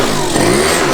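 A Yamaha Zuma scooter engine running badly idles and revs close up for a moment, a rough, uneven buzzing drone with no voices.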